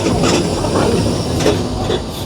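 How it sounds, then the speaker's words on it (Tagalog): A tram rolls along a Geneva city street, a loud, continuous rumble with wheel clatter and faint squeals passing close by amid street ambience. "Ang dami ko nakikitang tram dito sa kalye."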